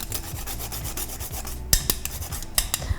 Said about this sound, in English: I have a little nutmeg here that I'm gonna grate right in to my dry ingredients.